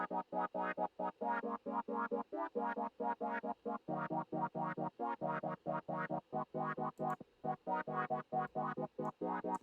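A synth sequencer in Bitwig steps through random notes and chords out of key, a fast, steady run of short, buzzy synth stabs in triplet rhythm, fairly quiet and alone.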